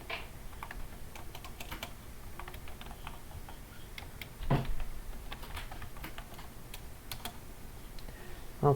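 A command is typed on a computer keyboard during an FPGA software install on Ubuntu, giving quiet, close key clicks in uneven bursts with a slightly louder clatter near the middle.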